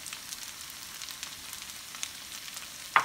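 Carrots hit a hot pan of pork fried rice, giving a steady oily sizzle throughout with faint crackles, then a brief sharper scrape or clatter at the very end.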